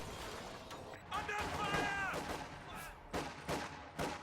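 Infantry gunfire in a strategy video game, a few sharp separate shots and cracks spread across the moment, fairly faint, mixed with other game sounds.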